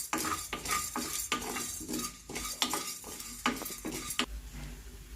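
Two spoons of chana dal dry-roasting in a pan, with a spoon repeatedly scraping and stirring against the metal in quick, uneven strokes and a faint background rustle, no voices.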